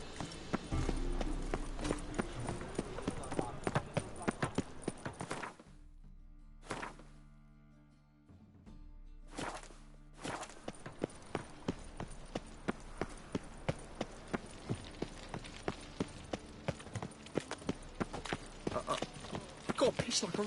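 A horse in The Witcher 3 video game clip-clops along in a steady, regular hoofbeat rhythm, pausing briefly before resuming, while characters talk over it.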